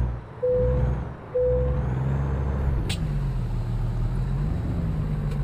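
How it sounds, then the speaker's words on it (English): Heavy 64,000-pound truck in American Truck Simulator, with a loud hissing air brake release standing out over a constant low diesel engine drone, plus two brief tonal beeps early on. "That truck just hit the brakes on us."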